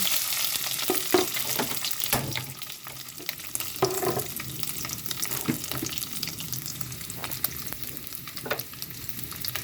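Pre-softened meat frying in a little oil, a continuous dense sizzle close by with intermittent clinks and scrapes of a utensil against the pan.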